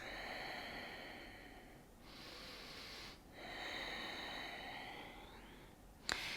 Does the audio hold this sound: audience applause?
no